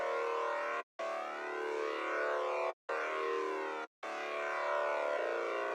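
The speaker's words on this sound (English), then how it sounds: "Next, I have these saws, which I'm getting from Serum" Bright saw-wave synth from a Serum preset plays four long sustained chords with brief breaks between them, buzzy and shimmering with a slight wavering motion, moderately quiet and heard alone.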